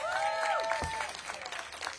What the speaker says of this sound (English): Let's give KJ a big round of applause.